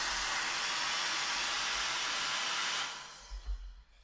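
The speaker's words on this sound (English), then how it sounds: "that's turned all the way up on both the cool and the hot. So a lot of air coming out" A Mescomb rotating hair dryer brush at full hot and cool settings blows a loud, steady rush of air for about three seconds, then winds down into faint handling noise.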